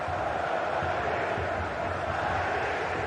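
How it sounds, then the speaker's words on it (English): Football stadium crowd in a steady, dense roar of massed voices, continuous and broad throughout, with no distinct chants standing out. "Well, just listen to this crowd. They want a bit more."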